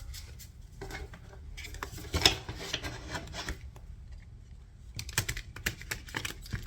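A tarot deck gets shuffled by hand, a busy run of soft rasping card riffles and rubbing slides, close and moderately loud, with brief pauses between bursts.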